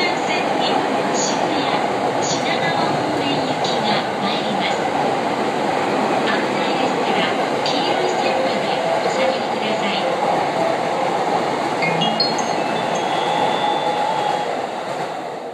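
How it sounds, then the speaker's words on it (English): A loud train in Japan rushes past close by, a sustained rumbling roar with rattling clatter and faint high squeals throughout. "It's a really fast train."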